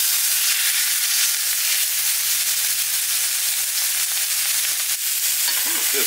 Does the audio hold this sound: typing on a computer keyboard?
no